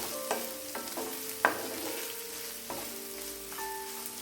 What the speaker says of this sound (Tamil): 2 ஸ்பூன் பட்டர் சேர்த்துட்டு நல்லா மிக்ஸ் பண்ணி விட்டிங்கன்னா நம்ம பட்டர் சிக்கன் ரெடி ஆயிரும்